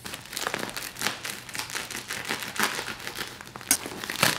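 A mail package is cut open with a knife, giving close, continuous crinkling and crumpling of packaging with a few sharper tearing bursts.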